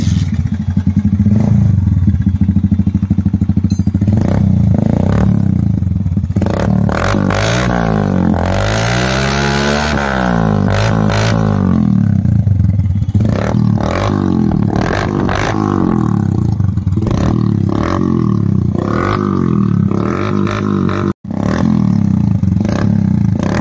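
Bajaj Kawasaki Caliber 115 motorcycle with an SC projector exhaust idling and revving close up, a steady thumping engine that rises into several throttle blips before settling back to idle, loud throughout with no talk.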